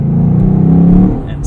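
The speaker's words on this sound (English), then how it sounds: "Typical LS3 pops" A loud, close LS3 V8 engine in a 2017 Chevrolet SS sedan burbling and rumbling as it revs down, with popping crackles from the exhaust; no one speaks.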